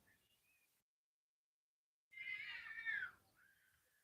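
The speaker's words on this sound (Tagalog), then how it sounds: "Yun, may nag-aaway na pusa." A short burst of high, yowling cries from cats fighting, loud for about a second, after quiet, with fainter shrill calls before and after.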